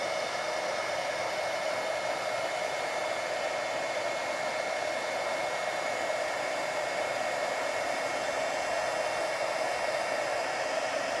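An embossing heat gun blows a constant, even whoosh of air, close and fairly loud, holding steady the whole time with no voices.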